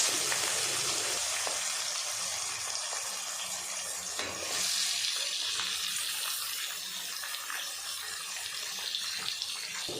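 Chopped onions frying in oil in a pan for a Rohu fish curry, giving a steady, close sizzling hiss that continues without pause.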